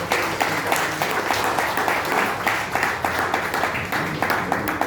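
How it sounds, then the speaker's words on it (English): A crowd at a Kaizer Chiefs founders' ceremony gives a sustained round of applause, dense steady clapping from many hands filling the space for several seconds. "A round of applause."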